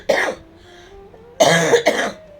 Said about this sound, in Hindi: थोड़ा स्वास्थ्य ठीक नहीं है, खांसी आ रही है